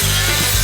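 A short burst of harsh, steady cutting noise as a tool saws through the floor of a 4x4 Ford truck, loud and close with no pauses.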